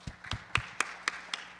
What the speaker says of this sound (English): So I'll give him a round of applause.